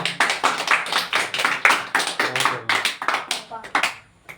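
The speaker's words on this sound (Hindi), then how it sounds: "बहुत ताली हो जाए।" A class of seventh-grade children claps together in a classroom, the claps coming as a fast, steady rhythm of sharp beats that stops near the end.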